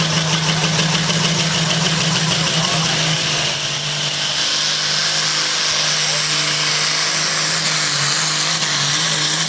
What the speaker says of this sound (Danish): Ja, det er en traktor, det hedder det.